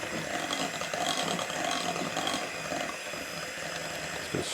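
A whisk beats no-bake raspberry cheesecake mixture in a bowl, producing a continuous, close scraping and clattering churn that stays steady, with a brief knock near the end.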